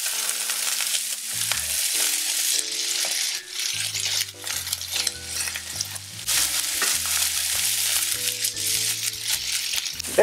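Beef entrecote meatballs sizzling in a non-stick pan while being turned often, a steady bright frying hiss broken by clinks and scrapes of a utensil, with background music tones underneath and no talking.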